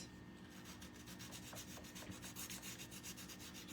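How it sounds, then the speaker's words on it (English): The edges of a small wooden heart are sanded by hand, a faint close rhythmic rubbing with quick repeated strokes, alone without talk. "I'm going to sand the edges of this"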